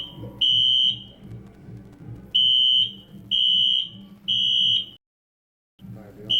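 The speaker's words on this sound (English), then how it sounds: "We got some fire alarms going off in here." A fire alarm sounds inside a school gym in loud, shrill beeping blasts of about half a second to a second each, with a short pause between them, over a murmur of crowd and talking.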